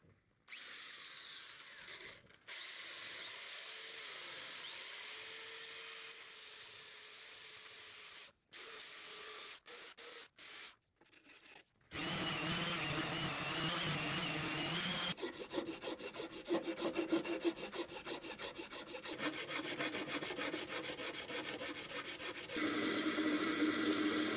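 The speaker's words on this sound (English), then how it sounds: "Right now I'm just gonna get the belt sander and start shaving away the sides." A belt sander grinds away the sides of a guitar body built from layered paper, with long steady abrasive passes broken by short pauses early on, then a louder, continuous rasping run to the end.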